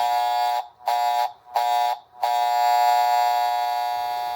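A repaired Marx toy train diesel horn from an Oak Park station set blares in three short buzzing honks, then one long sustained blast, loud and close with no talking.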